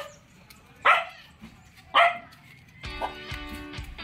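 A dog barks twice, sharp and fairly close, outside a house in Baras, Rizal, followed by a doorbell chime ringing out.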